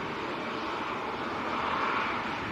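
A Virgin Atlantic Airbus A350-1000, lined up for takeoff at Manchester Airport, makes a continuous broad engine rumble that swells slightly toward the end, heard from a distance.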